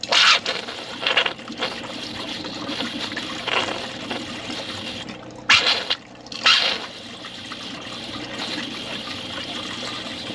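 Water draining from RV plumbing lines while winterizing, bursts of splashing and gurgling flow that come in several uneven surges over a low background.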